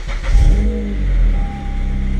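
A Honda car fitted with an Invidia exhaust and Hondata tuning revs loudly nearby, its deep engine note rising and falling in a steady throaty drone.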